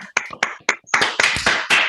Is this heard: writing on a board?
no